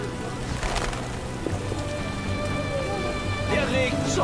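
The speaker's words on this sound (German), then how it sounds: "Oh, der Regen soll aufhören." Rainfall in The Witcher's merchant district keeps up a soft, constant patter under drawn-out musical tones, with no one speaking.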